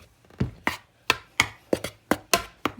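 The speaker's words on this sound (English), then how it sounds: "You can use a dinner knife and cut in" A dinner knife cuts butter into a small amount of flour for Southern flat dumplings, giving about eight crisp, evenly spaced scraping strokes against a bowl, close and fairly loud with quiet gaps between them.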